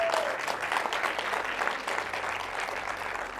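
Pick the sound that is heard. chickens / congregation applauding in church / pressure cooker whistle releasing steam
congregation applauding in church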